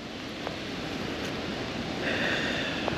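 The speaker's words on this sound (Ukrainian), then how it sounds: "той вітер, який здійнявся сьогодні з самого ранку і заважає ловити" Wind gusts steadily across open water at a fishing spot on cool, unpleasant weather, a continuous rushing roar with buffeting on the microphone and faint lapping beneath.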